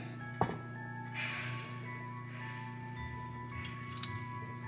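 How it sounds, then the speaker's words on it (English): Water poured from a pitcher into the hot water bath around a flan, a soft continuous trickle with light splashes, faint and close over a steady kitchen hum. "show you how I pour the water, that you don't get the water inside the mixture"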